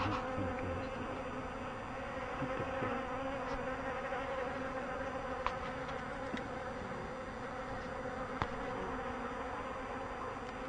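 Honey bees buzzing continuously around an apiary protected by anti-hornet tents in Vigneux, a dense, steady drone of many insects close by with a few louder passes, no talking.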